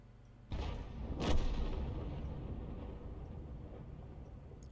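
A tank gun fires in a tank video game, one sudden heavy boom followed by a rolling rumble that fades slowly, with no talking.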